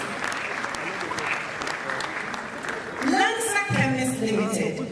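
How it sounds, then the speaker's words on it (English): A crowd applauds a sponsoring pharmacy at an event, with steady, even clapping for about three seconds before an amplified voice cuts in over the fading applause. "A round of applause for Alpha Dual"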